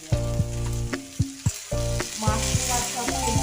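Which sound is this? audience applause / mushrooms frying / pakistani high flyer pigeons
mushrooms frying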